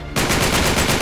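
Submachine gun fire in the Uncharted 3 video game, a sudden loud rapid burst that starts after a brief quiet moment and rattles on steadily to the end.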